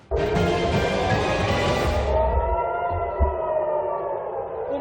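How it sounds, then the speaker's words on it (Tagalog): Air raid sirens wail across the West Bank and Tel Aviv, Israel, during Iranian missile attacks, a loud sustained rising tone that drops off and fades away while outdoor noise continues. "Umalingaw-ngaw ang mga sirena sa West Bank at Tel Aviv, Israel dahil sa missiles ng Iran."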